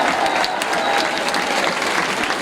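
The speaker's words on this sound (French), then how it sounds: "On peut les applaudir." Steady applause from a crowd at the opening of the Fêtes de la Madeleine festival, dense clapping filling the whole moment at a loud, even level.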